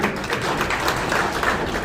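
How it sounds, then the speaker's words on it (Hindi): Loud, steady applause from an audience welcoming cooperative bank directors at a district cooperative bank function, a dense wash of clapping filling the whole stretch. "एक बार जोरदार तालियां करके आप भी स्वागत करेंगे।"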